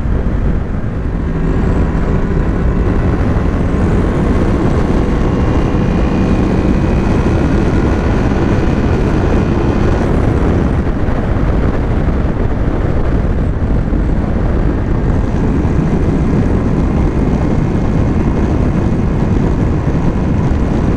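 A Honda VFR 800 motorcycle runs at low throttle on the move, its smooth, well-balanced engine a steady low drone buried under loud, constant wind rush for the whole stretch.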